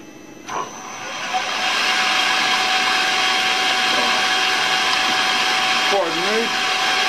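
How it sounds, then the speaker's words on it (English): A machine motor whirs steadily at high pitch, with a brief squeal as a center drill bites into metal, plus a few faint bumps. "Give her a little center drill."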